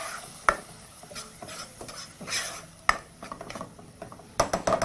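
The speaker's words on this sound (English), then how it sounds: "Right, tomatoes, onions, and garlic in. Proceed to saute your ingredients once more." Tomatoes, onions and garlic sautéing in a pan for chickpea soup, with spoon clinks and scraping stirs over a soft sizzle, close-up, with no talk.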